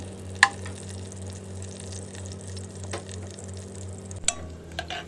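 Garlic sautéing in melted butter in a pan, giving a quiet steady sizzle with a few sharp clicks of utensil or pan contact, one early and a cluster near the end.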